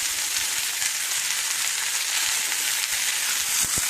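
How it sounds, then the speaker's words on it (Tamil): Onions for a potato masala sauté in a pan, giving a dense, even hiss of frying that stays close and steady throughout, with a few faint knocks near the end. "நல்ல கோல்டன் ப்ரௌன் ஆகணும், அது வரைக்கும் நல்லா இதை சாட்டே பண்ணணும்"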